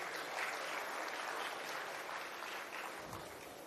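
Steady applause from an audience at an international summit at UPSIFS Lucknow, a dense wash of clapping sustained for several seconds with no talk on top, tapering slightly toward the end.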